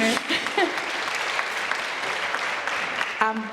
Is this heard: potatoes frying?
no